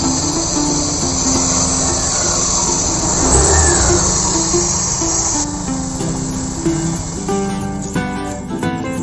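A Honda Beat FI scooter with a noisy, weak CVT starts up and idles, a steady close engine hum and rattle that rises briefly in the middle and then settles into a rougher idle.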